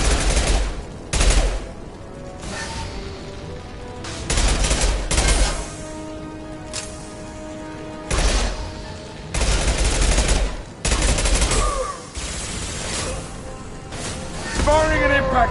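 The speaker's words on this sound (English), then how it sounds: "Firing an impact shot!" Impact-shot gunfire rings out in Mass Effect 2: loud, heavy bursts of shots with sharp clusters and brief gaps between them, along with game voices and combat noise.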